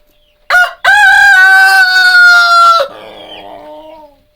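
A rooster crows loudly and close in a chicken coop, one long drawn-out call after a brief opening note, fading into soft clucking.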